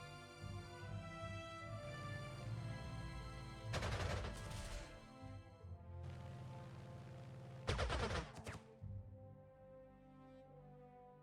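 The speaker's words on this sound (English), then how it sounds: "Just machine gun everybody." Two short, loud bursts of machine gun fire from the World War II strategy game Panzer Corps 2, one around the middle and another a few seconds later, over steady orchestral game music with no talking.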